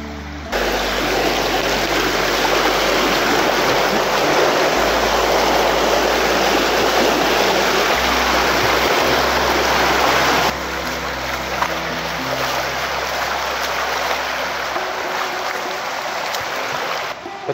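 A river in northern Alberta rushes steadily close by, a loud, dense broadband wash of flowing water that continues unbroken for the whole stretch, with no talk.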